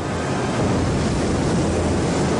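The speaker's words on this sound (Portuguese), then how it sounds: "E como caiu próximo à costa, o asteroide causou um enorme tsunami." Ocean waves of a huge tsunami triggered by an asteroid impact near the coast: a dense, continuous roar of churning water, loud and steady throughout.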